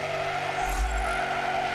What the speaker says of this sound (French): le drift est facile à faire